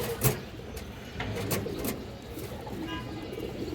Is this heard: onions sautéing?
no